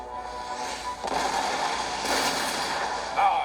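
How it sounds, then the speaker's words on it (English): Cannons fire in an Empire: Total War battle against enemy militia, a few booming blasts that swell at about one and two seconds and spread into a dense, rumbling volley with a sharper crack near the end. "Keep up the pressure by firing your cannons at the enemy militia."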